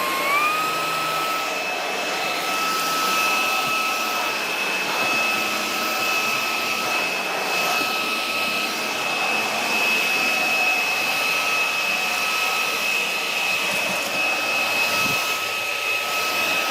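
A DeWalt cordless vacuum runs with suction on, a steady, moderately loud airy whir with a high whining tone that holds evenly throughout, without talking.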